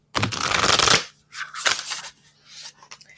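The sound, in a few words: shuffling tarot cards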